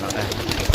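At a pigeon sale in Pakistan, a pigeon gives a brief, soft coo over a low murmur of nearby voices.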